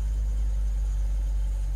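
Car idling at an auction lot, exhaust burbling with a possible flex pipe leak or loose heat shield; a steady, close low rumble with constant engine drone throughout, no voices.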